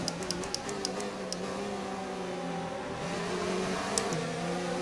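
Formula 1 race car engine in the racing game F1 2019, a steady sustained drone with harmonic bands throughout, accompanied by faint periodic ticking clicks at the start and near the end, with no talk.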